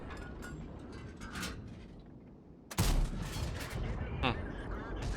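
A single loud tank cannon shot in World of Tanks strikes partway through, followed by mechanical clanks and rattling, with quieter game sounds before it.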